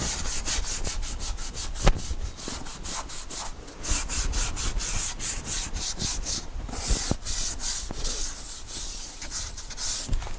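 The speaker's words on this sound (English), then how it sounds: "I'll go through with the Scotch-Brite and just scuff everything." A Scotch-Brite pad scuffs the surface of a steel wheel from a 1962 Chevy C-10 pickup in quick, rhythmic scrubbing strokes, close and fairly soft, with short pauses between bursts.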